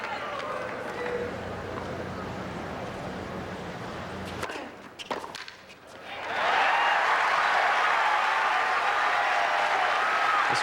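A Houston tennis crowd at the 2003 Masters round robin, Agassi vs Federer, first under quiet murmur, then bursting into loud, sustained applause that carries on to the end, with commentary over it.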